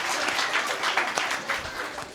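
Audience applause at a Marathi kirtan, a dense steady patter of many hands clapping together for the whole short stretch, fairly close and even.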